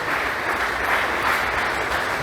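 A church congregation claps together in steady, sustained applause, a dense even wash of handclaps filling the whole moment with no voices standing out.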